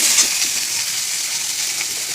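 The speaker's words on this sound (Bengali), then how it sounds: "এবার ভেজে নেবো সয়াবিনটা।" Soybean chunks fry in a wok, giving a close, loud, continuous hissing sizzle with no pauses.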